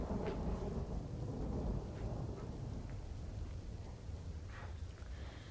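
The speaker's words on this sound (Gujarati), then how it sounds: "શહેરમાં ધોધમાર વરસાદની શરૂઆત થઈ છે" Heavy monsoon downpour in Chhota Udaipur, a steady dense roar of rain with low rumbling underneath, continuous and fairly distant, no voices.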